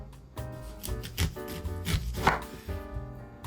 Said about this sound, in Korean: 이렇게 옥수수에 포를 떠줬고요